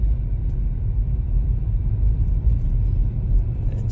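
Steady low road rumble inside a Tesla driving itself on Full Self-Driving 12.3.6 through Southern California, a continuous close cabin drone with no talking.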